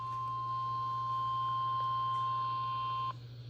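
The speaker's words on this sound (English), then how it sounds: "The attention signals you just heard will automatically activate special receivers to warn of the impending hazard." A NOAA weather radio attention signal plays as a steady, unbroken beep tone for about three seconds, over a low constant hum, then cuts off abruptly.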